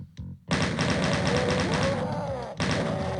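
Shotgun-wielding enemies open fire in the Doom map Scythe, a dense, loud roar of blasts that runs for about two seconds, stops briefly, then resumes with another heavy burst.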